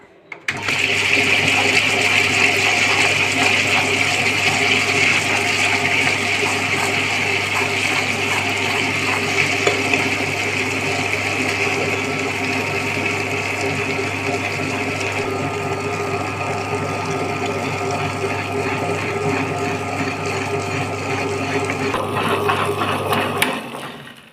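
An electric wet grinder churns soaked lentil batter for vada, giving a loud, steady motor drone with a wet, swishing grind that runs unbroken for over twenty seconds, then cuts off near the end.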